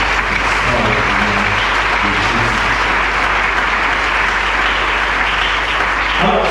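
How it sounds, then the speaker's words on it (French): Church congregation at a worship service breaking into sustained, loud applause, dense clapping filling the room with a few voices mixed in. "Est-ce qu'on peut acclamer pour ce travail?"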